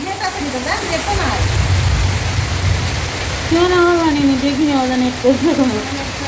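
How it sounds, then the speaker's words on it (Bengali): Heavy rain and storm wind pour down during a severe flood in Sunamganj, a steady loud broadband hiss running through the whole scene while people talk over it. "বৃষ্টি হচ্ছে আর সেই সাথে ঝড়"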